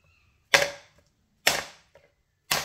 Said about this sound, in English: Let's just bang that a little bit.